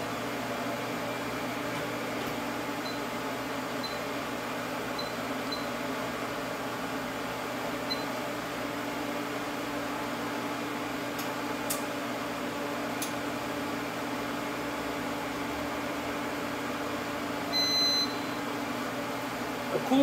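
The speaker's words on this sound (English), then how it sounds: "let me turn it on for you guys and you can hear. It's pretty loud." A TIG welder water cooler runs loudly in a workshop, a steady, even hum and whir with faint tonal whine that holds unchanged throughout, with a couple of brief clicks near the end.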